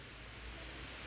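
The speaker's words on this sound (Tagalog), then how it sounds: "Grabe ang ulan dito sa Dingalan." Heavy rain pours steadily in Dingalan, a dense, even hiss of falling water with no breaks, close and constant.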